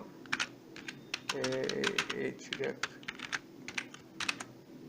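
Rapid, uneven keystrokes on a computer keyboard while building an index.html web page, with clusters of clicks separated by short pauses and a faint voice murmuring underneath.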